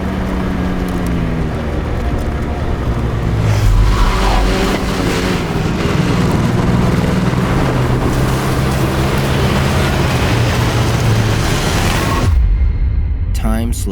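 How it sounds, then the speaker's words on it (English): A Can-Am Ryker three-wheeler rolls down a gravel road in Tennessee, its engine and tyre rumble loud and steady throughout before cutting off sharply near the end. "something curious happens when you're driving down a gravel road."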